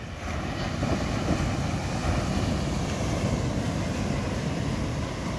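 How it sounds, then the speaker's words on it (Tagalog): Big sea waves rolling in along a coast after successive typhoons, a continuous loud roar of surf mixed with heavy wind buffeting the microphone, with no voices. "Malalaki pa ng alon, no?"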